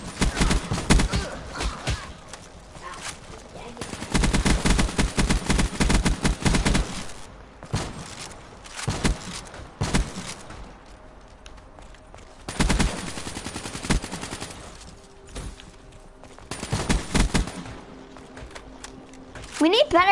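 Video game gunfire rattles in repeated rapid bursts and scattered shots, with quieter gaps between volleys and talking heard alongside.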